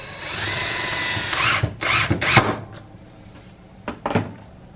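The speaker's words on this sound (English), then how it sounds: "get one side drilled, you're going to want to do 2 screws per side" A power drill drives screws into wood while a roller cotton gin is built, with a few short whirring bursts up close, then two more brief bursts after a quiet pause.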